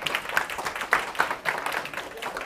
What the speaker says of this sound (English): Clap it up for Mr.